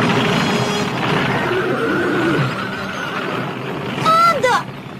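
A cartoon horse from the old Thundercats animated series gives a loud, shrill whinny near the end, rising over a dense rumbling, roaring background of action noise.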